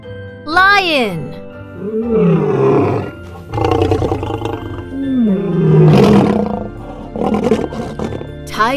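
A loud, close lion roar on a flashcard sound clip, several rising and falling growling calls spread over about nine seconds with vocal, tonal bursts throughout.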